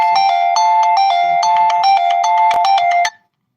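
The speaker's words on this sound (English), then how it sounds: "Freaking phone call." A phone ringtone plays loud and close as a repeating electronic melody of bright tones, then stops abruptly after about three seconds.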